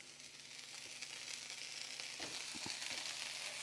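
Broccoli tossed into a hot pan with chicken, hissing in a steady close sizzle with a few soft thumps and stirring clatters.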